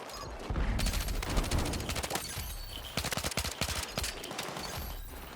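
Rapid bursts of automatic gunfire crackle in Battlefield 6, sharp repeated shots in clustered volleys with brief pauses between them, loud and close.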